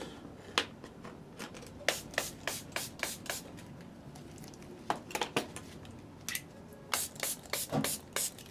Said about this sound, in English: Spray water on my brushes.